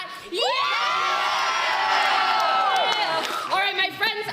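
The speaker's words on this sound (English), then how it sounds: "Cheer better than that." A live audience at an improv competition semi-final erupts in loud, sustained cheering and whooping that swells, holds for about three seconds, then breaks off into scattered shouts.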